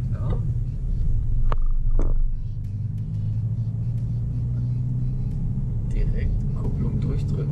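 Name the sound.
car driving in first gear during a driving lesson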